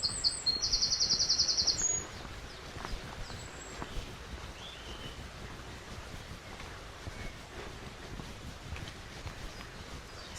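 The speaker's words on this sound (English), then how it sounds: "it's so distracting with the lovely birds" Birds sing in an English village. A high, chirping trill stands out clearly at the start, then fainter, scattered calls continue over a soft outdoor background and the gentle rush of a nearby brook.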